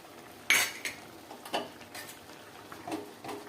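Mustard seed tempering being poured into cooked greens in a pot and stirred, heard as close clinks and scrapes of a metal spoon against the pot, one sharp clatter followed by lighter taps, with faint background noise.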